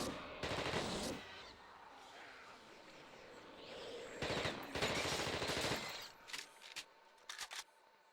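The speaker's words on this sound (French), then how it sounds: "j'ai activé la tourelle" Automatic turret firing in The Thing Remastered, a video game: dense bursts of rapid gunfire, loud and close, in two long volleys with a pause, then a few short scattered shots.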